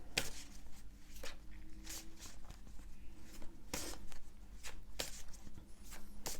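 Oracle cards being shuffled by hand come through as soft, papery riffles and rustles in short bursts with pauses between them, faint and close in a quiet room.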